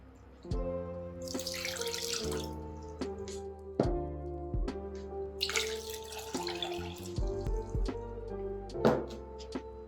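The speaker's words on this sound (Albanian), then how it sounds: "Tani do i shtojmë edhe 2 gota ujë. Uji është i ftohtë." Two glasses of cold water are poured into a pot of sugar for halva, giving splashy pouring bursts under background music.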